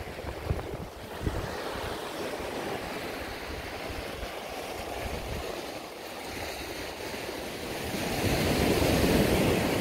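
Calm ocean waves roll in at high tide on a reef-sheltered stretch of Mamucabinhas beach in Barreiros, southern Pernambuco, a steady surf wash with gusts of wind buffeting the microphone and a swell building louder toward the end.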